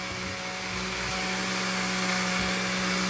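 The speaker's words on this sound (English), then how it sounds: "use your hand blender like I'm using right now, and just chop it up, just blend them out" Hand blender chopping canned Roma tomatoes for marinara sauce, a steady high motor whine with a constant hum, loud and close for the whole stretch with no talking.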